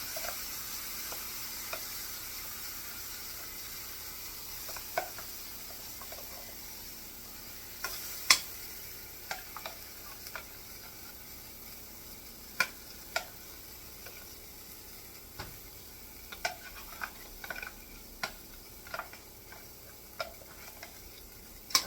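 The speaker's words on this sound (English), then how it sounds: "And you take your beans and just add it to your skillet." Beans frying in a skillet, a soft steady sizzle broken by scattered sharp ticks and pops from stirring, quiet and close with no voices.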